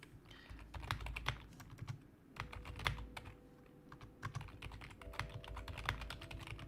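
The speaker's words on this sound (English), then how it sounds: "Some fun clicky keyboards." Rapid typing on a clicky computer keyboard, dense irregular keystrokes running steadily throughout at close range, with a brief lull near the middle and no talking.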